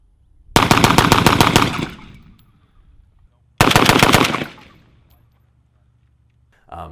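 Rifle Dynamics 704M AK rifle fired in two rapid bursts of loud automatic gunfire, each lasting over a second, with echoes trailing off afterward and no talking.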